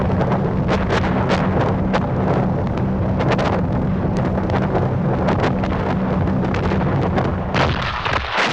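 Heavy artillery fire in wartime Normandy, a dense barrage of loud booms and cracks in rapid irregular succession over a continuous rumble, recorded roughly with wind noise.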